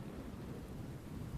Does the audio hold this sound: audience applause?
no